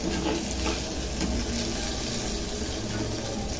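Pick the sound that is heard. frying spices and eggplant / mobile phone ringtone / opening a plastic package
frying spices and eggplant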